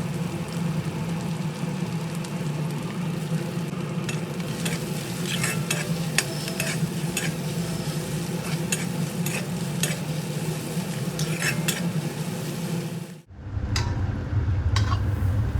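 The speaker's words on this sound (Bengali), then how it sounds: "কড়াইতে আবারও পরিমাণ মতো তেল দিয়ে গরম করে নিয়ে এর মধ্যে পেঁয়াজ কুচি দিয়ে ভালোভাবে নেড়ে চেড়ে বেশ ভেজে নরম করে নেব" Chopped onions sizzle loudly in hot oil in a wok while a spatula stirs them, a steady crackling fry with scraping strokes, close up and with no talk, briefly dropping out near the end before resuming.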